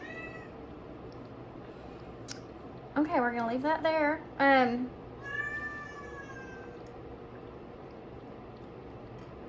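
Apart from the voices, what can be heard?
cat meowing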